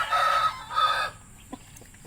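A rooster crows in two drawn-out calls, moderately close, followed by faint background clucks and noise.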